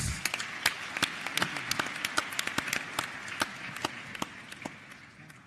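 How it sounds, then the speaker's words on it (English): An audience at the Youth Connekt Africa Summit applauds a speaker, with a moderate wash of many hands clapping and distinct sharp claps standing out, holding steady before gradually fading toward the end. "Let's give him a round of applause."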